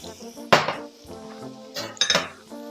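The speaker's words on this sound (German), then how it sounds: "Ich gebe den Staudensellerie hinzu" A few sharp clinks and clatters of celery dropped into a metal pan, two bright hits a second or so apart, close and fairly quiet.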